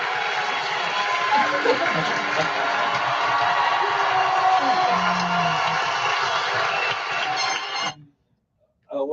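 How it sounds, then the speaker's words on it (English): An audience gives sustained applause and scattered cheering during a talk show, loud and even for several seconds before cutting off abruptly, with a brief sound returning at the end. "Give the applause."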